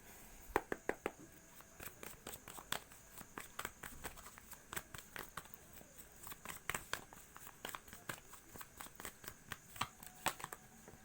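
Tarot cards are shuffled and handled close up, a steady run of quick crisp riffles and slaps in irregular bursts with no talking.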